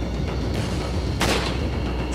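Gunshots in the Resident Evil 4 video game: a couple of punchy shots, the second a sharp, loud crack, over a dense, rumbling game background, with no talk.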